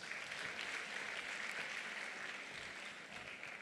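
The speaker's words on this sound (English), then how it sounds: "A round of applause for yourselves." Applause from a conference audience at a plenary session on diversity, a faint, distant, even patter of many hands clapping that holds steady without pause.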